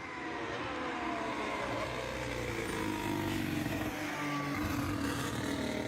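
A Ford-powered Formula 1 car engine rumbles steadily at a car launch event, a continuous low, throaty drone with harmonic layers, loud and unbroken with no talk over it.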